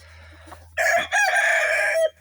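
A Wyandotte rooster crows loudly and close, one long sustained call after a brief pause, with quieter clucking from the Wyandotte hens beforehand and a low steady hum underneath.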